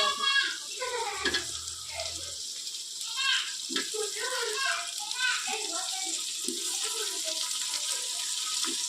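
Tomato frying in oil for bisibelebath, a steady close sizzle and hiss heard under continuous talking.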